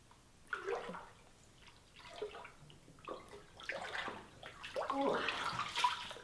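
Fresh water sloshes and splashes in uneven surges as someone wades through a pool in a rocky chasm on a Polynesian island, the movement growing busier and louder toward the end, with no talking.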